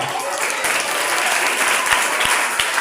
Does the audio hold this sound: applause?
yes